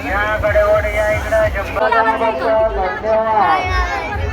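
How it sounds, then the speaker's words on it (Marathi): A packed temple market, with dense crowd chatter and overlapping voices close by, a steady hubbub of many people talking and calling out, and a low rumble of activity underneath. "फुल गर्दी."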